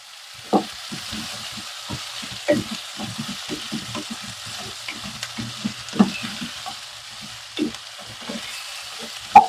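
Tomatoes and chili powder fry on a high flame for an aloo masala curry, with steady close sizzling broken by repeated scraping stirs of a spoon against the pan, and no talking.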